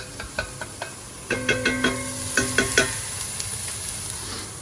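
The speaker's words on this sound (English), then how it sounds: "So Mike is frying the onion." Onion frying in a pan, heard as a steady soft sizzle broken by a run of sharp scraping stirs and clatters, with no voices.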